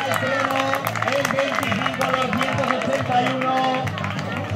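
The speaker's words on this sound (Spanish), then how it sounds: "aplauso para Calle 20, para el estreno" An outdoor pumptrack championship crowd claps and cheers, while an announcer's voice talks loudly over the applause throughout.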